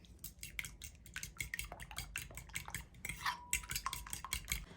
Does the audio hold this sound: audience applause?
no